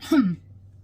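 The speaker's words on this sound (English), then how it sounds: "So I'm coughing a little bit because of that spray." A single short, throaty cough or throat clearing, close and fairly loud, lasting a fraction of a second before fading into quiet.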